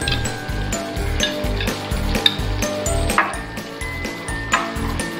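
A tablespoon of ginger garlic paste sizzles in the pan for chicken pepper fry, under a close, steady rhythm of regular scraping strokes with occasional sharp metallic clicks.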